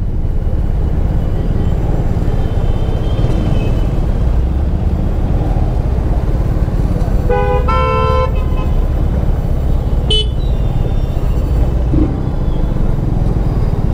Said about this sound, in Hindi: बट साइलेंसर का साउंड अच्छा है